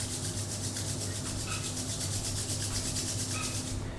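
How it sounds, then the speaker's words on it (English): Palms rubbing together briskly to warm them during a yoga session, a soft steady rhythmic swishing friction, close and fairly quiet over a low background hum. "join your hands, rub them"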